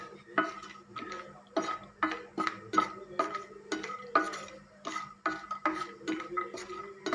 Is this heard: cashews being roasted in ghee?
yes